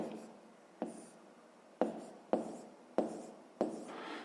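Pen writing a fraction on paper during a fifth-grade maths exercise, a series of six short scratchy strokes, each starting sharply and fading, close and quiet.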